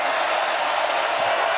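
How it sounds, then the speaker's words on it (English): Loud stadium crowd at a college football game between Clemson and NC State on a third down, a steady dense roar filling the space throughout. "Loud crowd for a 3rd and 5."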